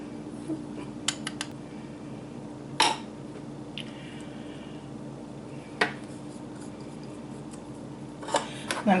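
Dry ingredients for whoopie pies get stirred in a bowl, giving a few sparse, sharp clinks and scrapes of utensil against the bowl over a low steady hum, fairly close.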